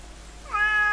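A single short cat meow, close and clear, rising out of a quiet background.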